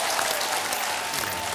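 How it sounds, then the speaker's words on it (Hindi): A studio audience on a TV game show breaks into dense, even applause for a contestant named Aamir, a brief burst of many hands clapping together at close range. "तालियां आमिर के लिए।"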